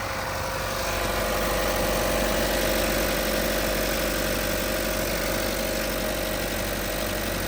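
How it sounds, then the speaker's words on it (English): A car engine idles steadily and close by, a constant low hum and rumble with a faint hiss, and no voices, while the purge control valve of the evaporative emissions system is checked. "so now we're gonna turn on the vehicle"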